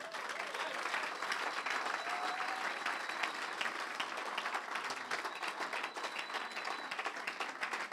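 Church congregation applauding at a Sunday worship service, a dense, steady wash of many hands clapping throughout, with faint voices mixed in.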